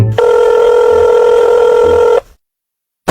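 A cartoon telephone rings with a steady electronic tone that holds unbroken for about two seconds, then cuts to near silence before another brief burst of sound at the very end.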